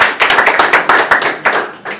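Audience applause at an independent bookstore's literacy townhall, a run of loud, sharp, fairly sparse claps from a nearby crowd, pulsing unevenly for about two seconds with no voices.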